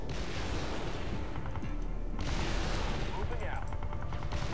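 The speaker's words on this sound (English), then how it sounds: "I've got enemy fire near a crowd of civilians." Gunfire in the strategy game Halo Wars, a steady dense crackle of shots and explosions across a battlefield near a crowd of civilians, with a voice briefly talking over it.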